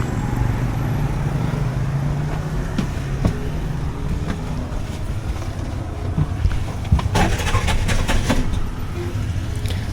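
Traffic on a city street in Tanzania, East Africa, heard as a steady engine rumble and road roar with occasional louder passing vehicles and faint horn-like tones.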